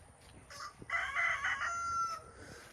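A rooster crows loudly and close, a long drawn-out call lasting over a second, with faint clucking from hens before and after.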